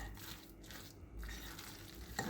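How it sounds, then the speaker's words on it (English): A single egg yolk is whisked in a bowl, making a close, continuous wet stirring and scraping that swells and dips over a couple of seconds, with no voices. "give it a good stir"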